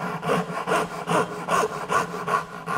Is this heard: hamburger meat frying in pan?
no